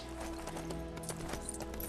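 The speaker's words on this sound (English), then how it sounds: "And the Lego horses even make horsey noises." Lego horse hooves clip-clop steadily in Lego Lord of the Rings on PS3, a quick run of light, even hoofbeats over a low game music bed with no talking.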